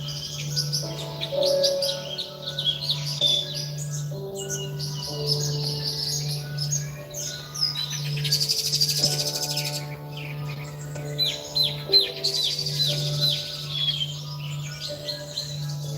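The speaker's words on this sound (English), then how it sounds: "I had a bunch of birds in my backyard. Like, where the heck is that noise coming from?" Birds chirp and warble continuously in a backyard, with many overlapping tweets and trills at close to moderate distance. A steady low electrical hum runs underneath throughout.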